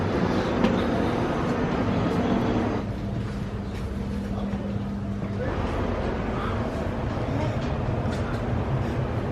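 Low, steady rumble of an idling train at the station before departure from Istanbul to Sofia, with a faint hum and shifting background noise; no one speaks.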